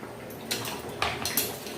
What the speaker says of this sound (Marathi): तर अशा पद्धतीने आपण सर्व शिरोळं कापून घेणार आहोत.